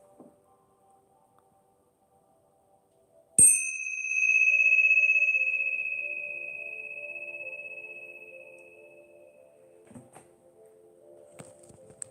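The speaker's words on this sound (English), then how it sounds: "About to hit the bell so you can slowly start opening your eyes." A single meditation bell is struck once near the start of an otherwise quiet passage, ringing out with a clear, pure tone that slowly fades over several seconds.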